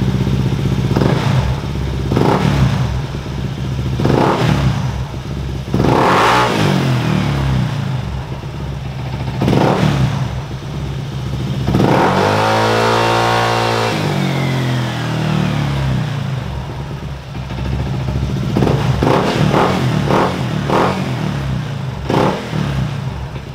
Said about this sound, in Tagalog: isa-soundcheck natin tong PCX 160 natin na naka-JBT pipe tapos naka-remap na